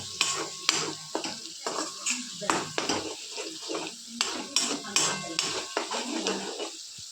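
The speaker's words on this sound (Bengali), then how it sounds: "এবার এই মশলাটাকে ভালো করে 3 থেকে 4 মিনিট মতো আমি কষে নেব" Spice masala for chicken biryani being stir-fried in a pan, with a close, continuous scraping of the spatula, clatters against the metal and a soft sizzle underneath, all without speech.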